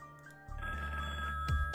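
A telephone rings in the Saw puzzle game, giving a single steady electronic ring that plays alone and clearly over a low background hum.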